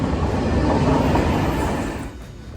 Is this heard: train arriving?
yes